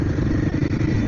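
A Royal Enfield Himalayan motorcycle rolls through city traffic with a steady, loud engine drone and road rumble, low and continuous with a slight clatter, no voice heard over it.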